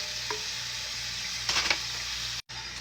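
Pig feet brown on high heat in a hot pot, giving a steady bright sizzle with a few brief scraping and stirring clatters midway and a momentary dropout near the end.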